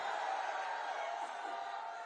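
Large crowd at an Amit Shah election rally in Arwal, Bihar, applauding and cheering: a steady, dense wash of clapping and voices, fairly distant and sustained without breaks.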